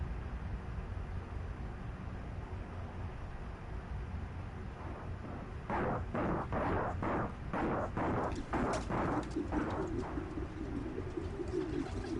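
Pigeons coo in Spider-Man: Miles Morales, a run of soft rhythmic calls rising over a low rumbling city ambience partway through, fairly faint and with no talk.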